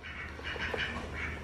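Ducks kept on a small homestead with quail cages and a tomato garden give a few soft, scattered quacks, faint against a steady background hum, with no talking.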